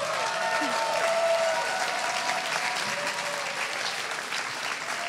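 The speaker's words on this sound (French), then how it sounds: "Bravo, on peut encore les applaudir" An audience at a closing-night event at La Nef claps in sustained, dense applause, loud and even throughout with no voices over it.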